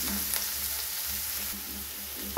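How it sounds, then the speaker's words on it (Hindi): Fresh peas frying in a pan for a spicy Indian-style macaroni, a steady close sizzle with faint stirring throughout, no talking. "थोड़ा सा लाल होने तक इनको भून लेते हैं"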